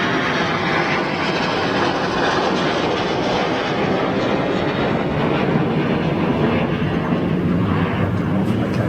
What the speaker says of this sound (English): Eurofighter.